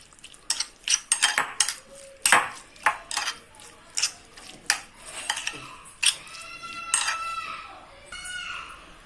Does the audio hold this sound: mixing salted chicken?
yes